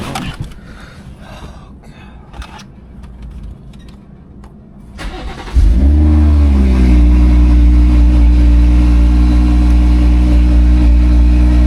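A BMW 440i F36 engine cranks and fires up after a quiet stretch with rustling, surging into a loud, close rev flare before settling into a steady, deep, booming idle.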